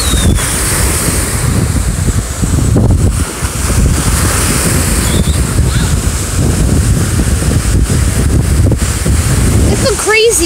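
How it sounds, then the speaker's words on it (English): Ocean surf washes ashore at a beach as the tide comes in, a loud continuous roar of breaking waves mixed with heavy wind buffeting the microphone. "We're gonna see some amazing waves."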